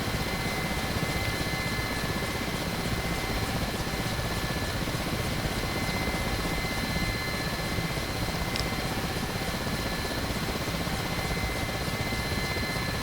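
A Mi-8 helicopter in the DCS World flight game drones with a steady, dense turbine whine and rotor roar that stays at an even loudness throughout, with no talking.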